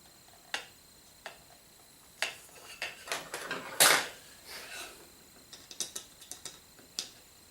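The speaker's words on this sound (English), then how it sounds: "Put the second screw in." A screw is driven in by hand, giving a string of small ratcheting clicks with one louder rasping burst near the middle, close and fairly quiet, with no talk.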